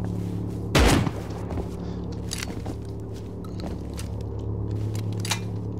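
A loud gunshot bursts out early in a Rust raid, followed by a few fainter sharp shots and clicks over a constant low mechanical hum, with no talking.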